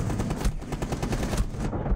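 Dense, rapid gunfire from a video game, a continuous stream of overlapping shots with heavy low thumps, loud and close, pausing briefly near the end before another burst.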